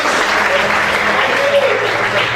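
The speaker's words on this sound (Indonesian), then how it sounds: "Dan tepuk tangan dong buat Tuhan Yesus." Church congregation applauding during a sermon, a steady, loud wash of clapping filling the room, with faint voices or cheering mixed underneath.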